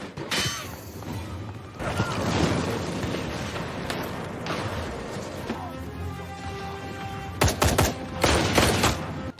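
A movie battle erupts with rapid bursts of gunfire, shattering debris and oil drums blowing up, dense and loud throughout with a few sharper cracking blasts near the end.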